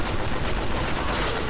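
Continuous loud gunfire in the video game James Bond 007: Agent Under Fire, a dense unbroken burst of shots filling the whole short moment with no talk.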